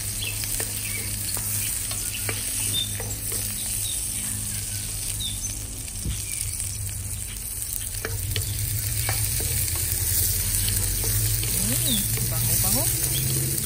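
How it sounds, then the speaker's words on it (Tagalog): Onions sizzle steadily in a hot pan while adobo is fried outdoors in a snowy backyard, a continuous loud frying hiss with occasional stirring scrapes and faint birdsong. "Ilagay ang sibuyas. Yan, nagsirit-sirit na."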